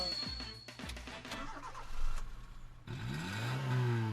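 A car with a stock muffler starts and revs up, a short cranking clatter giving way to a rising, somewhat dull engine note, moderately close with faint voices around.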